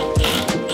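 A ratchet turns the 15 mm windshield wiper nut on a Ford Focus RS, giving a short run of close, quick mechanical clicks.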